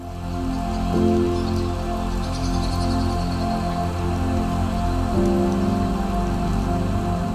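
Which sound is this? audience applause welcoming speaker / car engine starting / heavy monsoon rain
heavy monsoon rain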